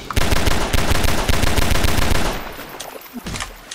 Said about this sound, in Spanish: qué reflejos con el disparo, con la pistola